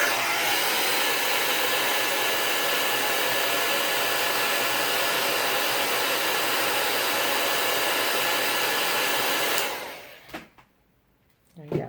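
A heat embossing tool blows hot air over a handmade card, a loud steady whooshing drone that runs for about nine and a half seconds, then cuts off into near silence with a couple of faint clicks.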